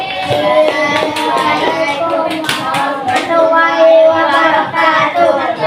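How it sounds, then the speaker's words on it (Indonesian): A classroom of students applauding for a presenting group, bursts of hand clapping and tapping mixed with children's voices chattering over it, close and fairly loud. "tepuk tangan kelompok 5"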